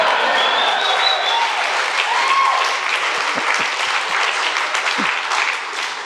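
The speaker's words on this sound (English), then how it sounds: "You don't have to clap." Audience applause fills a campaign launch celebration at The View of DC, steady and dense throughout, with a few crowd voices and whoops mixed into the clapping.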